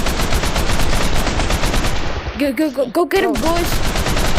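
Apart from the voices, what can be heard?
AK rifle gunfire in a video game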